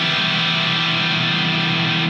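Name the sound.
unmuted electric guitar strings ringing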